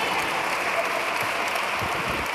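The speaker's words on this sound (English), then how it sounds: "round of applause" A conference audience at a tech event claps in a dense, steady wash of applause that stays loud and even throughout, with no pauses and no clear voices above it.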